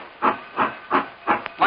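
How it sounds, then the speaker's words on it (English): Steam whistle of an authentic wood-burning steam locomotive at an Old West theme park ride, sounding as five evenly spaced, breathy hissing blasts, close and fairly loud. "The magic sound of the steam whistle marks the start of our ride back into history."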